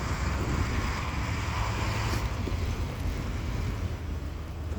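Strong whirling wind carrying snow, a steady loud rushing roar with gusting buffets against the microphone, no voices.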